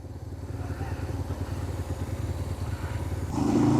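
A motorcycle engine runs steady and close while riding through Islamabad, its low throb rising into a louder rev near the end.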